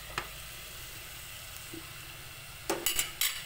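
Pork fries in hot oil with a continuous broad sizzle, broken by a few quick metallic scrapes and clinks of a utensil against the pan toward the end.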